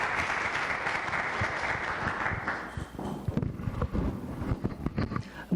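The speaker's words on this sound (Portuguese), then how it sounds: "peço para ele uma salva de palmas" Audience applause at a lecture on art and the Christian imagination, several seconds of dense clapping that thins out into scattered individual claps and thumps near the end.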